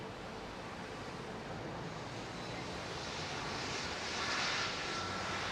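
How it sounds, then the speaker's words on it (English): An Airbus A220 passes in wet weather at London Heathrow Airport, a distant, faint jet roar that swells slightly toward the end under broad rain-like hiss. "Airbus A220."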